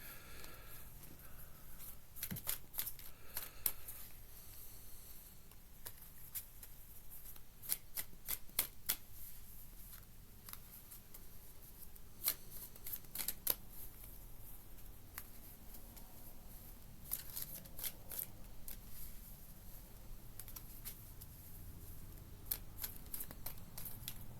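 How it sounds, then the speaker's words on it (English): Tarot cards being shuffled in bursts of quick riffling and soft sliding, repeated over and over at close range, quiet and without speech. "let me shuffle the cards"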